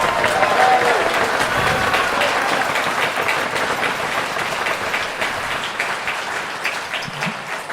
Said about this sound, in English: hold your applause till they're all standing.